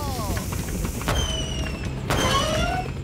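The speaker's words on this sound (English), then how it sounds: "It's like a bomb firework." Bomb firework explosions in Super Mario Bros. Wonder's Flying Battleship level: two sharp bursts with whistling, descending crackle trails, heard over steady game music.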